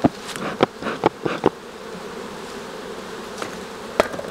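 Honeybees in an active hive being smoked, a dense steady buzzing close by with several sharp, brief bursts scattered through it.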